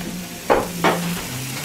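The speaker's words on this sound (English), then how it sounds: "Cooking the ham." Ham frying in a pan on Christmas morning gives a low steady sizzle with a faint hum beneath it, broken by two short louder scraping or crackling bursts a moment apart.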